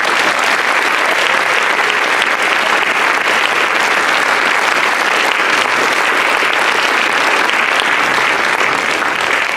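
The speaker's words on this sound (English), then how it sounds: "can I have a big round of applause, please, for our coaches?" At a senior school sports awards ceremony, an audience claps loudly and continuously for the coaches. The applause is a dense, even roar of many hands that holds steady without any talk over it.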